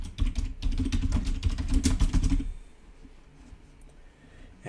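Rapid typing on a computer keyboard while entering an email subject line, a dense run of close clicks for about two and a half seconds that stops into near quiet.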